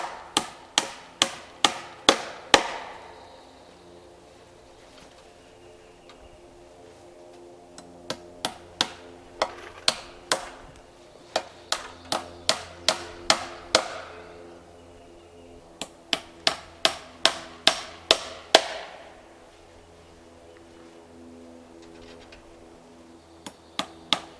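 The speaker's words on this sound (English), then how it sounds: "Well, if I can hammer." Bursts of sharp hammer blows driving staples into a hog wire fence, several strikes in quick succession, pausing between groups, close and loud with a faint hum underneath.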